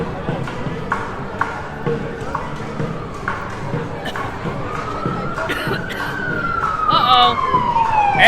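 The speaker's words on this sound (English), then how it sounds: "Ambulance!" An ambulance siren on Fremont Street, Las Vegas, at night rises in sweeping wails over a busy, noisy street crowd, growing louder and nearer toward the end as people talk.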